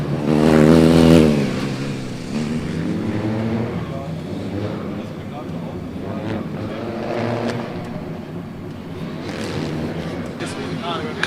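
A Formula Student race car in an autocross event at FSG 2025, entered by Karlsruhe, launches hard off the line with a loud rising engine note, then drones on into the first corner under continuous commentary.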